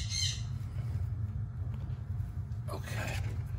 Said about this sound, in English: You hear a bird.